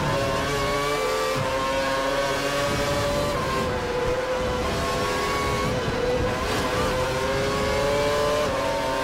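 A Formula 1 car engine in the F1 2012 racing game at the Spanish race drones on loudly the whole time, its high steady whine shifting pitch with gear changes and throttle, and no one talks.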